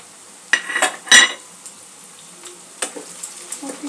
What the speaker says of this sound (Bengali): একটু মিশিয়ে নেব।